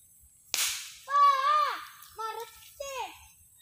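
A homemade bamboo toy gun fires one sharp, loud crack, followed by a voice speaking in short bursts nearby.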